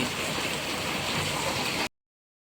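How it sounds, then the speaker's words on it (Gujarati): Steady, heavy rain pours down in a dense, even hiss, then cuts off abruptly. "તમે જોઈ શકો છો, આવે છે ને વરસાદ"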